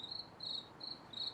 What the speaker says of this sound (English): my crickets are happy here